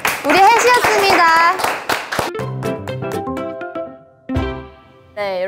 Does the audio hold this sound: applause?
yes